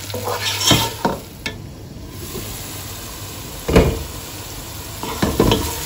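Onions softening in a covered pot over low gas heat for a chicken and potato curry, with a steady faint sizzle broken by a few louder clinks and stirring knocks at the start and near the end.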